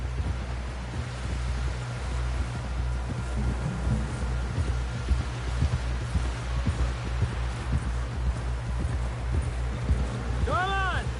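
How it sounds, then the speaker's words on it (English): Galloping horse hooves in Red Dead Redemption 2, a steady clip-clop rhythm running the whole way through a rumbling outdoor game soundscape, with voices calling out over the riding. "Someone help John down off this horse."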